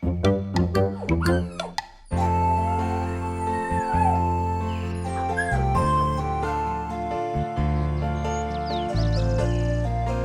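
A dog yips and whimpers in quick, high bursts at first, then a steady tonal backdrop with music-like layers carries on beneath occasional faint whines.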